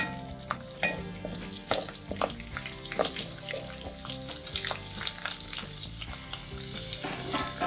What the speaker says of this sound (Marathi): तेल तापल्यावर आपण यात लसूण घालून घेऊया, थोडा परतून घेऊया लसूण।